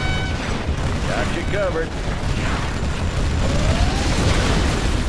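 Rocket bomb explosions rumble continuously in C&C Generals Zero Hour, a dense, loud battle din with whistling projectiles, while a game voice speaks a short unit response over it.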